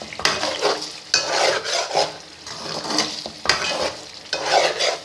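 Chicken curry being stirred in a pot in a Pakistani village kitchen, a spoon scraping and rasping through the thick mixture in uneven strokes over a soft sizzle, close and fairly loud, with no talking.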